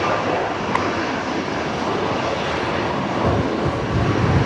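A Boeing 737 Max 8 arriving on runway 01 right at Brisbane Airport, heard as a steady, loud broadband jet roar that holds throughout without voices.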